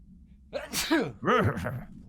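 A single loud, close sneeze with a sharp intake and burst, followed by a short voiced sound.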